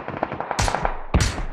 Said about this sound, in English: He's getting shot at by bots.